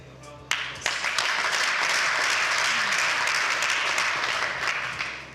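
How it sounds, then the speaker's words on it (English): An audience at a live event gives a full round of applause: a thick, continuous wash of many hands clapping. It starts with a few sharp claps and holds steady for several seconds before easing off slightly. "So let's please give him a round of applause."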